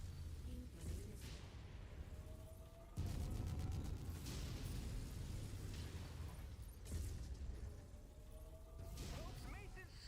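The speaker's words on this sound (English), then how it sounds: "Incoming missile." Missile explosions in the mech combat video game MechWarrior 5: several heavy booming blasts with crackling debris break in one after another, rumbling over a low battle background with talk underneath.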